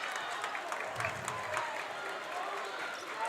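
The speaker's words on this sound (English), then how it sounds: "Crowd coming alive here for Lawrence County." Basketball crowd at a high school boys region championship game in Lawrence County, cheering and applauding in a steady, broad roar that holds throughout without a break.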